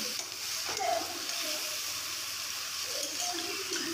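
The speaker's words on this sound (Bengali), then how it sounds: "আর সর্ষের তেলে রাঁধি ধরছং" Food frying in mustard oil in a home kitchen gives a soft, continuous sizzle with light crackles, heard fairly quietly throughout with faint traces of voice.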